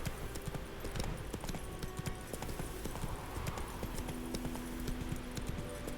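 Steady, close hoofbeats from Roach the horse in The Witcher 3 clop along continuously at an even trotting pace, with a low ambient wash underneath.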